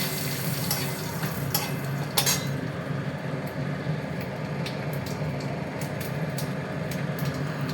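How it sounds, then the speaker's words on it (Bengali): Dry red chillies, fennel, cumin and bay leaves fry in oil for a Bengali biulir dal, giving a steady close sizzle with a few clinks of a spoon against the pan. "এর মধ্যে দেব আমি 2টো শুকনো লঙ্কা, আর এর মধ্যে আছে মৌরি আর জিরে, এইটা দিলাম। আর দেব হচ্ছে 2টো তেজপাতা।"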